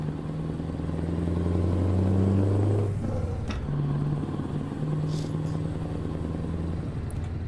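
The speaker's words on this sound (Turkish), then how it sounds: "Şöyle biraz egzoz sesi gelsin ya." In Euro Truck Simulator 2, a low truck engine rumble drones steadily, revving up briefly then settling back into a constant exhaust growl with a faint clatter.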